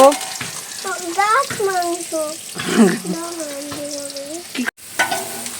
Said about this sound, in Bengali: ইঁচড়টাকে ভেজে নিচ্ছি